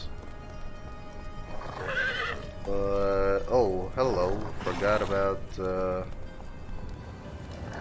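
A horse in the game Conan Exiles gives a loud whinny, with hoof clip-clop underneath, while someone talks briefly in the middle of it.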